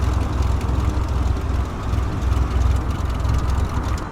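A steady, droning aircraft engine revving in a flight simulator game while held on the parking brake, a continuous loud hum with no talk.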